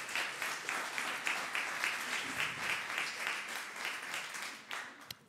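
Sustained audience applause at a regional Ma thèse en 180 secondes competition, dense steady clapping throughout that thins and ends with a single sharp clap.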